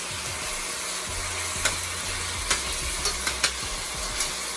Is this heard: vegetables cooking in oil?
yes